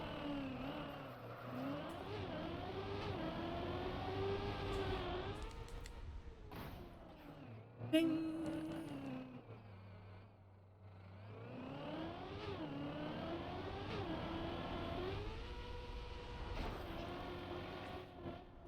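A Trackmania desert car drives on a slippery plastic surface, its engine whining and revving in rising and falling pitch sweeps, dropping briefly around the middle before climbing again; fairly faint overall, with a short chime.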